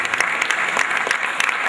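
Audience applause at a distinguished lecture of a quantity surveyors' institute in Nigeria, steady dense clapping from a crowd throughout, fairly loud and close with no talk over it.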